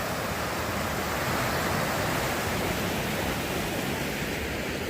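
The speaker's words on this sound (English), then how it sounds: "You can see why they do the kayaking. They got a nice little falls there." A small waterfall on a river in Vail, Colorado gives a steady, dense rush of falling water that fills the whole clip at an even, fairly loud level. No one speaks.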